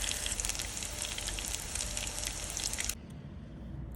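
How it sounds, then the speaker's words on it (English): Sweet potato pancakes fry in a skillet with a continuous bright sizzle and light crackle that drops to a quieter hiss near the end, with no talking. "Fry both sides until they're nice and golden brown."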